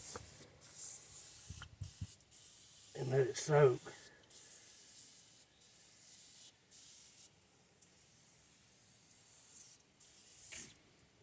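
Aerosol cleaner hisses from a can onto engine parts of a 1980 Ford Fox body Thunderbird, a faint steady spray under someone briefly speaking nearby.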